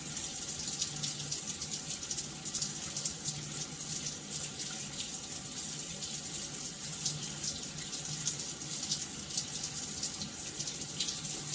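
Steady broadband hiss of tap water running into a sink while hands are wetted before a wash-and-go on natural hair, continuous and fairly loud throughout with no voices.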